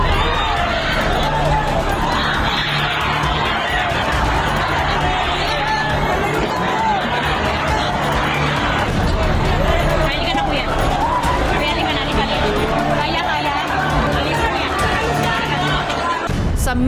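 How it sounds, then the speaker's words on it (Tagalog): Churchgoers shouting loudly during a Mass on Ash Wednesday as part of the church's second floor collapses, a dense, continuous crowd din of overlapping screams and voices with commotion, alone and steady throughout. "Napalitan ng malalakas na sigawan."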